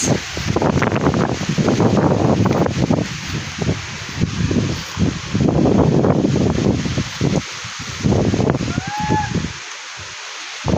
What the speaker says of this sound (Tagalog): Naririnig nyo ba yung hangin na yan guys?